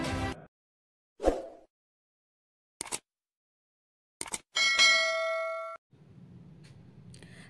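A series of short metallic notification dings and clangs for a bell-subscribe reminder: a few separated strikes, then a bright ringing tone with sustained harmonics that cuts off abruptly, followed by a low rumble.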